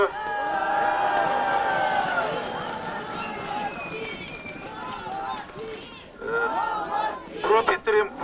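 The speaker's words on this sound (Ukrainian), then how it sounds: "Депутатів зустрічають схвальними вигуками" A crowd shouting approval at city deputies, raised voices and cheers rising over a murmur of chatter, with sharper bursts of shouting near the end.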